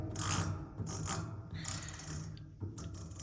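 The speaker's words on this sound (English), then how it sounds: "It's on like a detent. There's a ball in there, and you could count the clicks of how many clicks." A ball detent on the adjustment of a semi BOV aerosol filling machine clicks several times at an uneven pace, each click sharp and mechanical, close up and fairly quiet.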